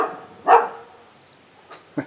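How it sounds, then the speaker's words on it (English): A dog gives one loud bark, then two fainter barks follow a moment later, over a quiet background. "That dog."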